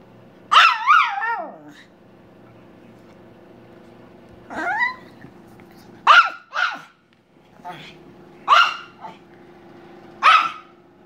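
A hungry dog barks repeatedly at dinnertime, with a long drawn-out howling bark followed by several sharp, loud barks spaced a second or two apart, close to the listener, alongside a person talking.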